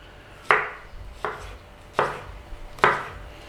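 A knife slices lengthwise through cucumber on a cutting board, four sharp chopping thuds spaced at slow, steady intervals, each strike crisp and close with a short ringing tail.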